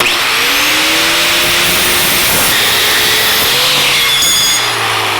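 A power tool screams while cutting a pair of metal rail bearings to length for a 1949 Chevrolet gasser's sliding tilt front end, a loud continuous whine with shifting tones throughout.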